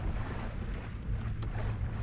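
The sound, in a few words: wind on a sailboat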